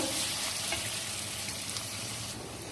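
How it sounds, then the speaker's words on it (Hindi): Garlic ginger paste frying with spices over a low flame, a soft, even sizzle running steadily throughout, close up and uninterrupted, with no speech. "गार्लिक जिंजर पेस्ट भी हमारा बड़ा अच्छा सा ये फ्राई हो गया मसाले के साथ"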